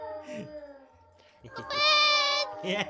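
A giant mutant cartoon cat in Minecraft gives drawn-out, tonal meows, one loud sustained wail near the end, with short speech and laughter between the calls.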